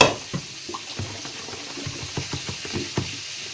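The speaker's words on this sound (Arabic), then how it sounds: "هنصفي الميه بتاعت القشر كده" Water steeped with orange peel poured through a strainer, giving soft trickling and splashing with small irregular drips, close and quiet with no voices.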